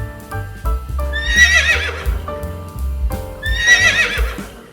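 Two loud, close horse whinnies, each rising into a shrill quavering neigh, preceded by a low snort-like rumble, repeating in a steady pattern.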